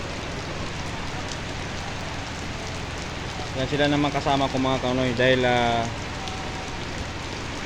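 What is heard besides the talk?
heavy rain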